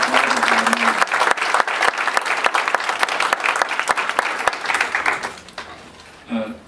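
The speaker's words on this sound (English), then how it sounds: "Give them a round of applause." A conference audience breaks into a full round of applause, dense clapping that holds steady for several seconds, then thins and fades out as a voice begins to speak.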